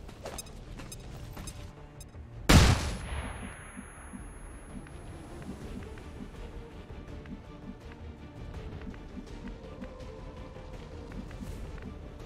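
A flashbang grenade in XCOM 2 is thrown at sectoids and goes off in one sharp, loud crack with a short ringing tail, standing out against quiet game ambience.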